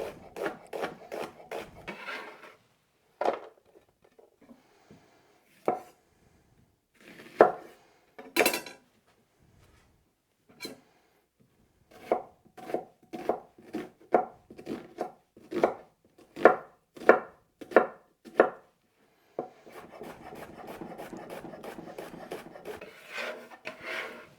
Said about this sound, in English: And then I have 2 red onions. One I'm going to cut into half rings as well for the stir fries and such.